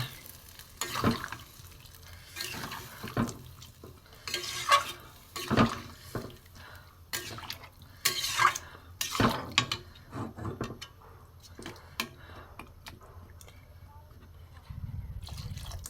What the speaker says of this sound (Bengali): এবার আমি একটুখানি জল দেবো, সেদ্ধ জিনিস তবু একটুখানি জল দেবো।